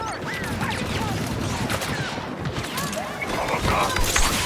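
Blaster fire crackles in a Star Wars Battlefront II battle on Jakku, a dense, continuous fusillade of overlapping shots and impacts under shouted voices.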